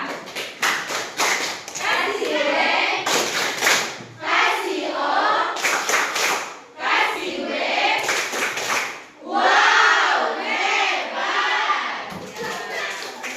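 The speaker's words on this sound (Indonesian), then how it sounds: "Nah, kita kasih tepuk wow dulu untuk ketiga teman kita." A classroom of children performs a rhythmic 'tepuk wow' clapping cheer, sharp patterned claps mixed with loud chanted voices in bursts that repeat for over ten seconds.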